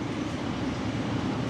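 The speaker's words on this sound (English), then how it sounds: "There is a train coming in" A train rolls in with a steady, broad rumbling roar that holds at an even level throughout, close and continuous with no voices.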